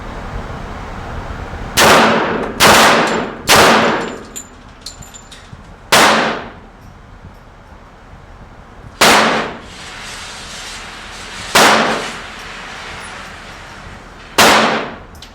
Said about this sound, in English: we're going to take 3 quick rounds at 5 yards, 9 yards, and 15 yards